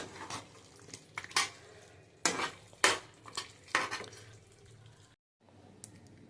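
A pot of katla fish and potato curry is lifted off the stove, close up, with several sharp metallic clanks and scrapes of pot and utensils. A brief silence falls before a final clink.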